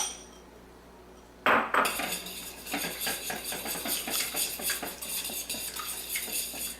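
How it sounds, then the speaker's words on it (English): Eggs, milk and parsley being beaten in a bowl for lentil burritos: after a short quiet stretch, rapid, continuous clinking and scraping of a utensil against the bowl, close and fairly loud, with no talking. "We're going to add about 2 tablespoons of milk. And then this parsley. And we're going to mix it all up."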